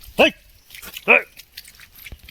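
A dog at a home gives two sharp barks roughly a second apart, fairly close and loud, followed by quieter scattered noises; people are talking nearby.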